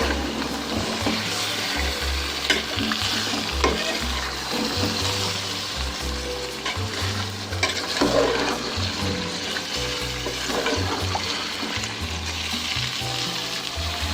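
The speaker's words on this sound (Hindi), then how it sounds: "चिकन को हमें कलर चेंज होने तक पकाना है।" Chicken for Bombay-style biryani sizzles loudly in hot oil and is stirred. The steady frying continues close up throughout, with scraping stirs mixed in.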